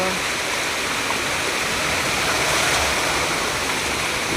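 Rainwater flows near a house during heavy rain, a steady close rushing and gurgling wash that continues unbroken throughout.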